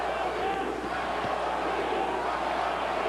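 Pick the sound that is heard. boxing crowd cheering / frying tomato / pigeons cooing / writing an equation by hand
boxing crowd cheering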